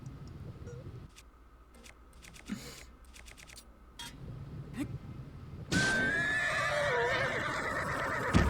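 A horse whinnies loudly in the second half in The Legend of Zelda: Tears of the Kingdom, a high wavering call over game ambience, after a stretch of soft clicking and low rumble.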